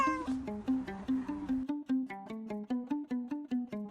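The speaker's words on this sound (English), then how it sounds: "This is a cat." A cat meows over and over in a quick, steady rhythm, close and clear, with no talking.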